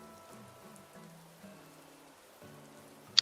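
Heavy rain falls in the Animal Crossing: New Horizons video game, a steady soft hiss beneath gentle game music, ending with a brief sharp click.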